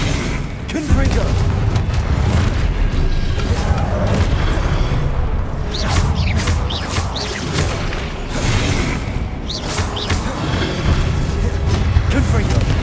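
Explosive Confringo spell blasts in the Hogwarts Legacy video game, heard as loud, dense booms and crashes over a continuous roar of combat effects, with spoken voice mixed in throughout.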